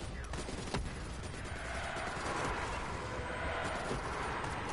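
Rapid automatic gunfire from a first-person shooter game, a dense continuous stream of shots with a few sharper cracks, steady and loud throughout.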